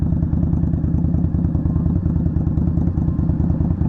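A 2020 Indian Scout Bobber motorcycle engine runs at low speed, a steady, loud, close low-pitched thrum with an even pulsing rumble throughout and no voices.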